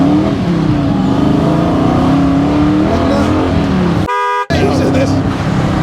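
Modified TVR Griffith 500 accelerating hard, a loud roaring engine note rising and shifting from inside the car with a brief cut in the middle, while people talk over it.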